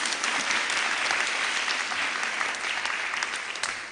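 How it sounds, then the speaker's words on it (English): An audience claps steadily at a girls' high school awards ceremony after a prize is announced, a dense, even wash of applause that holds for several seconds and eases off slightly toward the end. "You can clap, please."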